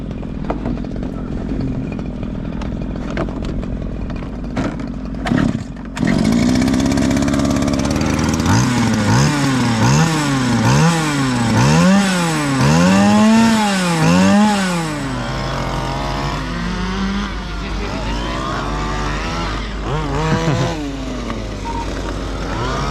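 A 1:5 scale petrol RC car engine is started and then runs loud and close, its buzzing two-stroke note rising and falling in repeated revving sweeps before settling to a steadier idle.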